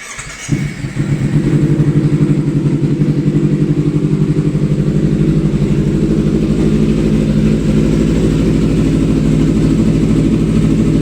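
A Kawasaki Ninja 250 FI motorcycle from 2016 starts and settles into a steady, loud idle as it warms up, its even low engine rumble running continuously close by with no talking.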